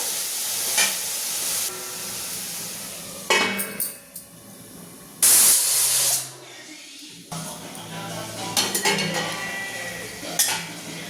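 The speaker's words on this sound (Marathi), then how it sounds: "याला छान वाफीवर वीस मिनिटं शिजू द्यायचं" Pav bhaji vegetables steaming in a covered pan, with a loud burst of hissing steam midway among scattered clinks and clatters of cookware.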